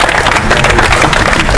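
Loud, close applause from a crowd at a Texas legislative day rally, with dense, steady clapping through the whole short burst.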